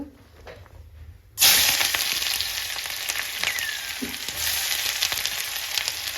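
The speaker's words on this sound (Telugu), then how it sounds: "ఇక కడాయిలోనే చేస్తున్నాను దాంట్లోనే ఉల్లిపాయలు పచ్చిమిర్చి వేస్తున్నాం" Onions and green chillies hit hot oil in a kadai, a sudden loud sizzle erupting after a quiet second and holding as a dense, steady frying hiss with faint crackles.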